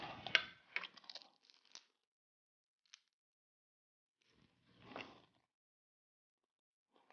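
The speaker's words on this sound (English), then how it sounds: "I know you guys heard that crunch." A few sharp crunchy bites into a chicken egg roll close up, with crackly bursts at the start and another crunch a few seconds later, separated by quiet pauses.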